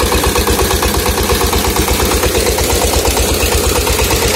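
An Anil 20 HP diesel engine drives a 6-inch Intan water pump drawing from a well to irrigate crops. It makes a loud, close, steady rapid thumping drone with no pauses and no voices.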